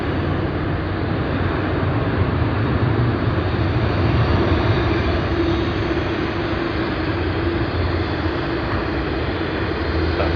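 An Airbus A320 airliner takes off at Sydney Airport, a loud, continuous jet engine roar holding steady throughout, heard from nearby without speech.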